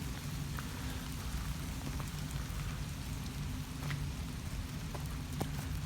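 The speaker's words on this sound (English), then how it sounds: "And it's raining today." Continuous rain pattering on surfaces nearby in Blackburn, with a few distinct drips landing now and then; steady, moderate, and without voices.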